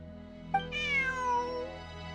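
Bonnie, a cat in Genshin Impact, gives a single clear, drawn-out meow that rises and then slowly falls, over a soft, steady background tone.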